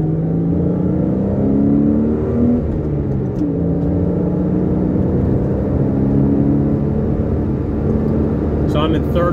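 Car engine pulling hard in third gear on Michelin tires, a loud steady rumbling drone with rising engine pitch throughout, heard from inside the cabin with a brief voice at one point.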